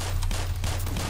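Enemy gunfire from the video game Black Mesa, a dense, steady crackle of shots over a constant low rumble, loud and continuous without a break.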